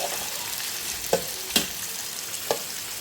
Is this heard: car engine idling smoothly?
no